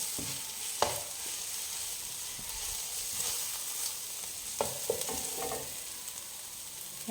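A spoon stirs masala with pepper powder in a hot pan for karimeen pollichathu, making a soft continuous sizzle broken by a few sharp scrapes and clacks against the pan.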